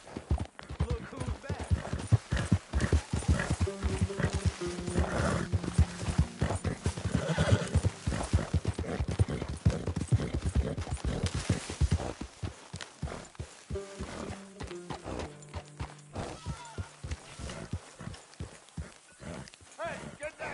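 Horse hooves clip-clop steadily with a loud neigh partway through, in the video game Red Dead Redemption 2, over background music with voices talking nearby.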